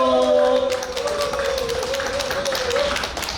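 Audience clapping welcomes the chair of a community foundation onto the stage at a Korean gathering, a brief patter of applause mixed with a voice and faint background music.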